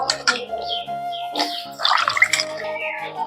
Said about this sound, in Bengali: এখন দিয়ে দেব জলের মধ্যে